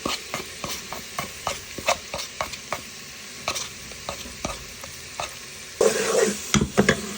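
Ginger and garlic fry in a pan for a meatball and spinach curry, with a quiet sizzle under regular scraping stirs and a brief louder burst of hissing near the end.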